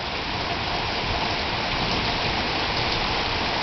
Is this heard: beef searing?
no